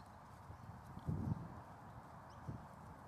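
A horse's hooves thud softly while trotting on a lunge line, with a couple of louder muffled footfalls among faint, steady background noise.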